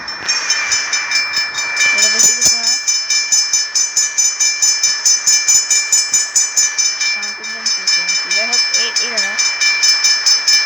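A train moving in a railway simulation game, a loud rhythmic clickety-clack of wheels over rail joints repeating steadily throughout, while someone speaks over it.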